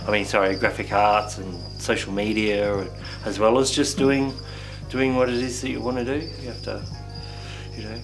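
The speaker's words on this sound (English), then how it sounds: "you can hear the crickets chirping in the background I got from a supplier" Crickets chirping in a cricket tank from a supplier, a steady high trilling that runs faintly under someone talking throughout.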